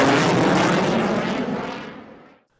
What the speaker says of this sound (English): From crop dusters to military planes, our skies are buzzing constantly with activity.